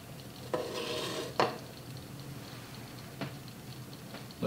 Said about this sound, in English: Looks like it's boiling pretty well